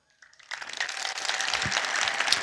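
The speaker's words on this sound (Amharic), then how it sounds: "አጨብጭቡልኝ።" A church congregation breaks into applause after a short quiet start, the clapping building quickly and staying steady and fairly distant.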